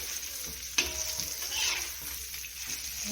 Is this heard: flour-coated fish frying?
yes